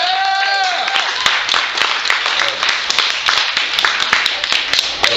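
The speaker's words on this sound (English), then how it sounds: "So if you guys aren't done applauding." An audience at an open mic comedy show claps in a continuous, fairly close burst, with scattered loud individual claps over the steady applause for about five seconds.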